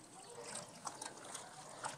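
Ambadi leafy greens being washed by hand in water, giving soft trickles and a few light splashes at close range, low in level with no talk.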